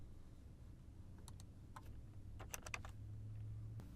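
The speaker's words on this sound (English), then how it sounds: "again hitting D as my keyboard shortcut" Computer keyboard keys tapped in sparse clusters while using Fusion 360 sketch shortcuts, a handful of quiet close clicks over a faint steady hum, no voices.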